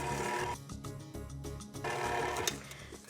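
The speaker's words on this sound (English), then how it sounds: "the mixer back on, just enough on a low speed just to get it all mixed together" An electric mixer runs on low speed, blending walnuts and ground cinnamon into a batter for apple bars, giving a steady, fairly loud motor whir that continues without a break and without voices.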